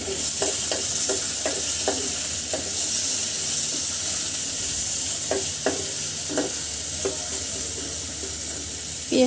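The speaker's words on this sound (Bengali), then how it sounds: "পেঁয়াজটা সুন্দর করে ভাজি করে নিব।" Onions and green chillies sizzle in a cooking pot, a constant bright hiss broken by irregular scraping stirs, close and fairly loud, with no voices.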